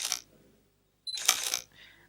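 A Sony A7R camera shutter fires in one crisp mechanical burst of clicks and whirring, close and alone after a brief silence, with a softer trailing sound.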